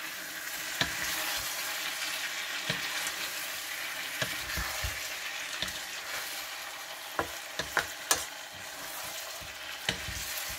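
Veal oxtails sizzle steadily as they fry in a pan, with scattered stirring scrapes and clinks of a utensil standing out over the constant crackle, close and moderately loud.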